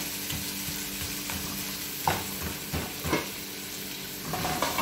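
Food browns in a pan with a continuous sizzle, broken by a few utensil scrapes and taps that stand out against the steady frying.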